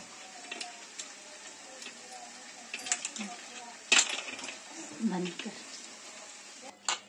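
Frying in a home kitchen, with Rayalaseema-style snack fritters being lifted out of hot oil: a low steady sizzle with scattered clinks and scrapes of a utensil against the pan, a few sharper knocks near the end.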